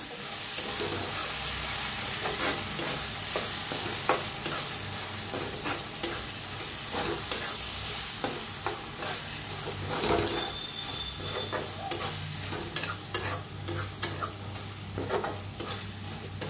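Spice masala of turmeric, coriander powder and red chilli roasting in oil in a kadhai, with a steady sizzle and repeated scraping stirs of a spoon against the pan throughout.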